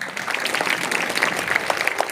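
An audience clapping at a public gathering of teachers, a dense burst of close applause filling the whole moment without voices.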